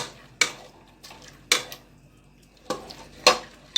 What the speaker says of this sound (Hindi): तो इसे ना गोल गोल घुमा लेती हूँ मैं, ताकि जो प्याज है ना वो साथ मिक्स हो जाए।